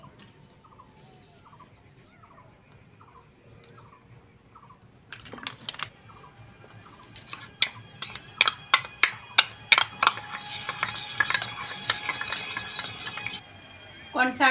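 Cornflour being stirred into a tomato sauce mixture in a bowl, a spoon rapidly clinking and scraping in a fast repeated rhythm after a quiet stretch with faint bird chirps in the background, close and clear, no talking.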